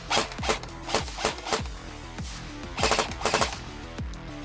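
Rapid mechanical clacks in short bursts, a Cyma G36 or Specna M4 airsoft rifle on a NiMH battery cycling and firing several times, sharp and close with brief pauses between volleys.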